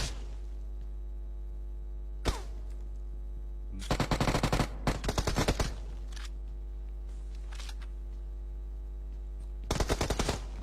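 Video game gunfire: bursts of rapid automatic shots, one sharp single shot early, then a long rattling volley and a later burst, over a steady low hum.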